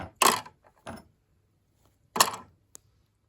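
Metal hand tools dropped into the storage drawer of an Elegoo Neptune 3 Max 3D printer, giving a few sharp clattering clinks in separate bursts with a small tick afterward, close and alone in a quiet room.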